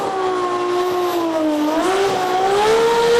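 A loud drag race car engine with higher-lift, lumpier cams roars continuously with a rough, lumpy tone, its pitch dipping and then climbing again as it revs.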